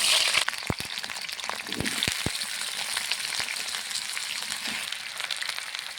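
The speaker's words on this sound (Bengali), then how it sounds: "এখন আলুটা ভেজে নিচ্ছি ভালো করে।" Potato pieces fry in oil for a fish curry, a steady close sizzle punctuated by several sharp clicks and spatula knocks against the pan.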